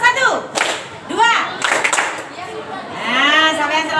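A classroom of children claps a short counted rhythmic pattern in quick bursts, with young voices and a teacher talking around the claps.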